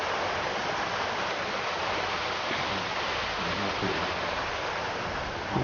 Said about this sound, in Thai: นั่งชิวๆบรรยากาศน้ำตกสวยๆนะครับ